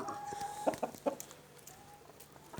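A rooster clucks a few times nearby, short throaty calls over a quiet outdoor background; the flock has breathing trouble.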